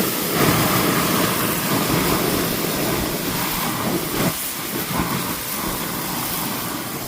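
Water sprayed onto a hot backyard grill sends up a steady, loud hiss of steam that runs unbroken for several seconds with no talk.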